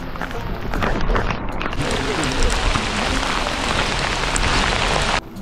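Steady, dense heavy rain hiss fills the whole clip, loud and close, at the Ekvira Devi temple in Karla, with a muffled voice briefly underneath before it cuts off near the end.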